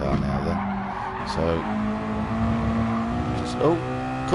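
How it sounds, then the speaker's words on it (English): A race car in a sim racing game slides off at turn one of the Red Bull Ring, with tires squealing over a steady engine drone while commentators talk throughout. "So Koi just had a big off in turn one"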